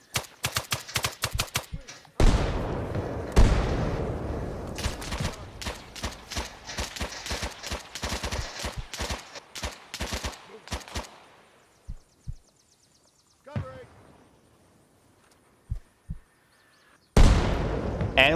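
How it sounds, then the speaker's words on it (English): Arma Reforger combat erupts with rapid bursts of gunfire and heavy mortar impacts, dense at first, then thinning into scattered shots and sharp blasts separated by near silence. "And we're getting mortared."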